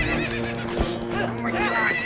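A horse in Zelda Twilight Princess whinnies in a short, shrill burst, with hoof clip-clops and game ambience around it.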